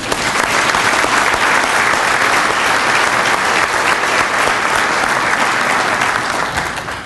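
An audience at a mayor's business breakfast claps warmly and steadily for about seven seconds, a dense, even wash of applause filling the room before easing slightly at the end.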